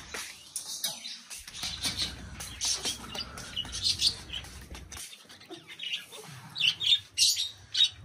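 Birds chirp and squawk around a chicken coop as it is opened, scattered calls rising in bursts near the mic, with rustling and brief flapping between them; no rooster crow stands out clearly.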